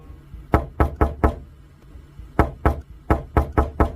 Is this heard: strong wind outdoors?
no